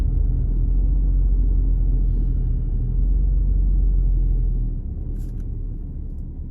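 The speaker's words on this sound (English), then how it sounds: "Why is there so much traffic up here?" Heavy road traffic rumbles continuously in a deep, loud drone, easing slightly in the last couple of seconds.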